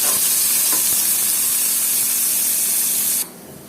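Onions fry in hot oil to make crispy beresta, with a loud, dense, continuous sizzle that cuts off abruptly near the end.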